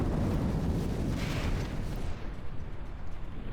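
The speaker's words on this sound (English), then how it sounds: "You can see the turrets up here are being blasted away, man." Heavy naval battle in From the Depths, with battleship turrets being blasted by gunfire: a dense, roaring wash of explosions and cannon fire that stays loud and continuous, then thins slightly into rumbling impacts.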